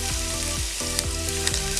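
Finely chopped green chillies frying in a pan for Thalassery chicken pathiri, a loud, continuous close sizzle with a few sharp pops and crackles, no voices.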